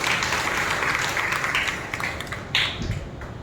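A congregation at a church service claps together in a brisk, dense burst of applause that swells and then gradually thins out, with a faint voice underneath.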